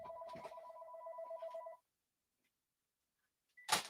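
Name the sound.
telephone ringing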